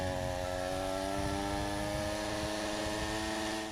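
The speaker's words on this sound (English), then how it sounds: "This sickening noise is full throttle." A Stihl chainsaw engine held at full throttle but bogging down, a loud, steady, strained drone with a rough buzzing tone, close up and continuous.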